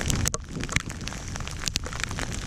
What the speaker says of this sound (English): As you can see, it's hailing again.